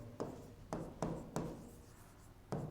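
A pen writes a sentence by hand on paper, with five quick scratchy strokes spaced irregularly, each starting sharply and trailing off, faint and close, with no talk.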